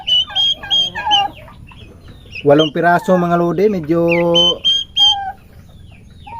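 Domestic turkeys raised on a banana farm make loud, repeated clucking and gobbling calls, close by and overlapping, while someone talks over them.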